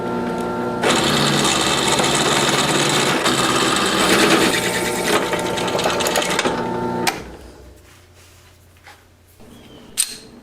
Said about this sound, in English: And now we'll drill the final 3/8 hole